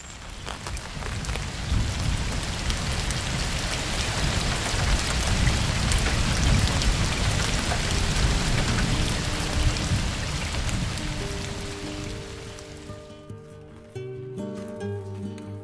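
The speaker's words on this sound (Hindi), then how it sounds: "ऐसा लग रहा है कि बरसात का मौसम स्टार्ट हो गया है।" Steady, heavy rain falls in the mountains, a dense close hiss of drops on surfaces that holds for most of the stretch before fading as a few musical tones come in near the end.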